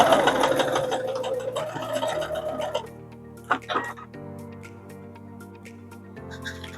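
A sewing machine backstitches the seam of a zipped cushion cover, whirring steadily at first, then slowing into short start-stop bursts with quieter gaps between.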